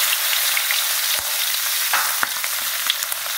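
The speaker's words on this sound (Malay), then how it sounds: "Kita goreng dulu ikan bilis kita ni." Anchovies frying in hot oil in a pan, a steady close sizzle with occasional sharper pops and crackles throughout, no talking.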